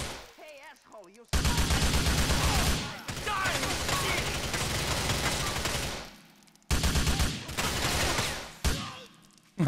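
Rapid automatic gunfire in the video game GTA IV, dense sustained bursts broken by short pauses, loud and close, with a voice heard briefly at the start.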